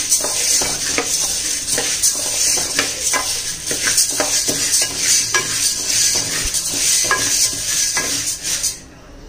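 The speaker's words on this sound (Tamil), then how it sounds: "நாலு பக்கமும் கிண்டி நல்லா வறுத்து விடணும்." Weight loss powder ingredients are dry-roasted in a pan, with continuous rhythmic scraping and clinking from a spoon stirring against the metal over a faint sizzle, ending abruptly.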